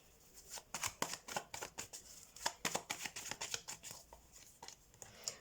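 Tarot cards being shuffled and drawn by hand: a quick run of crisp riffling and slapping flicks, steady and close, with no voice.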